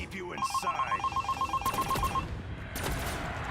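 A telephone bell rings in short repeated electronic pulses for about two seconds, followed by softer clicks and background noise with some speech-like sound underneath.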